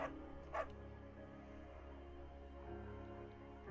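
A German Shepherd barks in the video game Firewatch, two short barks near the start, faint and distant over a low steady background hum, no talk.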